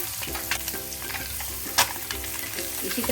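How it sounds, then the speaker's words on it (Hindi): Eggs fry in a kadai for egg kadai masala, a continuous close sizzle broken by a few sharp spatula scrapes and stirring clicks, with no speech. "करके पूरा दूसरे साइड भी हम ऐसा लाल करके फ्राई करके ले लेंगे।"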